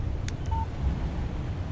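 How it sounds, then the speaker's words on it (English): A phone chimes a short electronic text message alert in Alan Wake Remastered, a couple of brief tones over a low, rumbling ambient background. "Text message from Barry."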